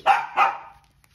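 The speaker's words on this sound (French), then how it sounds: "je suis désolée pour les aboiements" A dog barking indoors, two sharp close barks in quick succession that fade out, with a faint clatter afterward.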